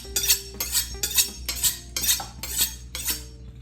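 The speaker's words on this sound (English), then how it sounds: "When you're sure that you have a sharp knife, that's when you start to slice." A knife slicing a seared black sesame crusted tuna loin, seven regular scraping strokes against a cutting board, each a crisp swish ending in a soft knock, close and steady without talk.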